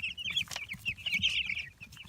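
Two-week-old Cornish Cross chicks peep and chirp in a rapid, continuous high-pitched chatter, with a few soft clucks beneath, fairly close and moderately quiet.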